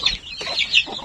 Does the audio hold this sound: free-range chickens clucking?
yes